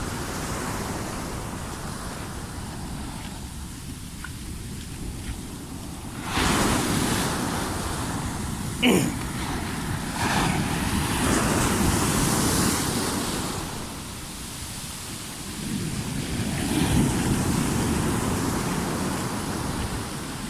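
Strong ocean surf roars continuously, with waves swelling and crashing in repeated surges, mixed with gusty wind noise against the microphone.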